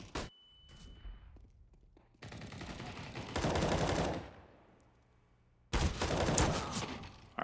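Counter-Strike gunfire on the Mirage map: two dense bursts of automatic rifle fire with sharp shot onsets, plus an earlier single crack, loud and close with quieter gaps between volleys.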